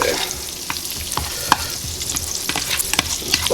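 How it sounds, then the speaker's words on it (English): Butter melting in a pan over medium heat, giving a soft, steady sizzle with scattered light pops and crackles throughout, no voices. "we're gonna put the butter in here over the medium heat and let that butter melt"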